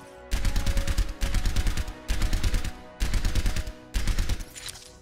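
Five separate bursts of rapid automatic rifle fire from the Soldier hero in the Overwatch video game, each lasting under a second with short gaps between, loud and close.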